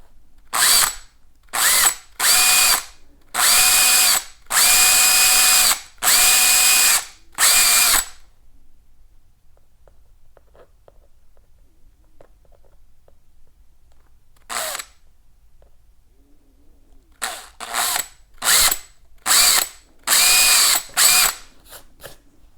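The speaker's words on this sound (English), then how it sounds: "Now I've switched to a 1/8 inch drill bit to widen the hole a bit more" A power drill with a 1/8 inch bit whines in several short bursts while widening a hole in a knee guard, then goes quiet for a stretch before another run of quick, loud bursts.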